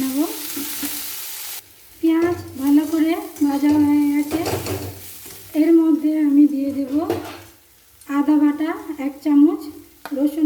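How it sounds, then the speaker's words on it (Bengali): Onion pieces salted and frying in a pan for paneer malai curry give off a close sizzle with spatula stirring and pan knocks, while someone talks over most of it. "লাল করে ভেজে নেব পেঁয়াজের টুকরোগুলো"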